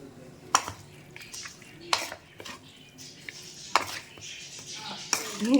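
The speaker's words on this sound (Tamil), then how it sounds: "அதனால் இப்போ கரண்டி வச்சு மிக்ஸ் பண்ணுறாங்க" Idiyappam dough being mixed with a metal ladle in a bowl, sharp scraping clanks recurring about every one to two seconds over quieter stirring, close by.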